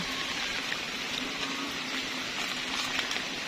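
Steady, dense rain pours down without a break during a storm with strong wind over a garden in Camarines Sur, Bicol, a constant hiss of drops with a faint low hum underneath.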